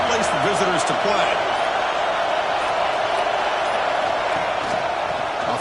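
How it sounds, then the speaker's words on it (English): A loud college football stadium crowd roars continuously as a dense wash of cheering and noise, with a commentator talking over it near the start. "listen to this crowd noise. This stadium is vibrating."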